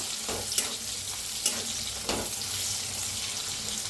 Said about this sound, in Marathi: मिरच्या लसूण दोन्ही बी आणि छान असं भाजायचं